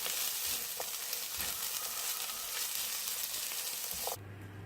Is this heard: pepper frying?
yes